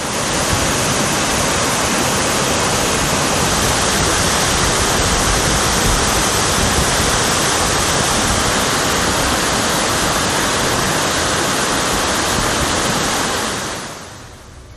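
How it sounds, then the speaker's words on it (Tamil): The Kavi waterfall near Valparai, flooded after heavy rain, roars as a dense, steady wall of rushing water, loud and unbroken for most of the stretch before fading away at the very end. "பெய்து வரும் கனமழையால் குரங்கருவி எனப்படும் கவி அருவியில் வெள்ளப்பெருக்கு ஏற்பட்டுள்ளது"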